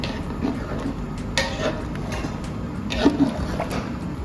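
Water poured into rice for a home-cooked mutton biryani, a steady wash of liquid with small splashes and a couple of louder sloshes, close by and without speech.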